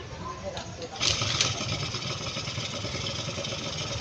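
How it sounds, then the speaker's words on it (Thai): A motorcycle engine is kick-started and then runs with a steady, rough close-up idle. A few sharp mechanical clanks come near the start, and no one speaks. "ออนสวิต สตาร์ทตีน"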